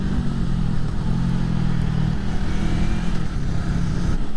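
A mid-size motorcycle engine revs steadily, close and loud, its throttle rising and easing as the droning pitch shifts, with no voices.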